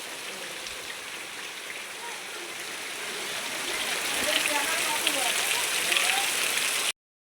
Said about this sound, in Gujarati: હાલ બા વરસાદ જો આવે है।